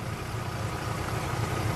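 A 1966 Ford Fairlane 500XL convertible engine idling with a low, even rumble and faint broadband hiss, continuous and fairly quiet throughout.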